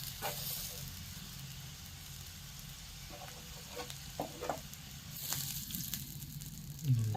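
Vegetables fry in oil with a steady low sizzle, broken by a few stirring scrapes and clinks. Close but fairly quiet, with faint background sound around it.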